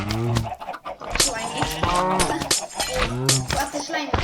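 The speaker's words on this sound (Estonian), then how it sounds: "Aga kellele lehmad peale kukuvad?" Minecraft cows mooing repeatedly, several loud low drawn-out moos in quick succession with a chicken cluck mixed in, alongside a voice speaking Estonian.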